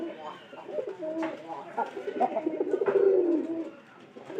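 Pigeons in a pair of loft boxes coo in low, rolling phrases that swell and fade, with a voice speaking intermittently over them at close range.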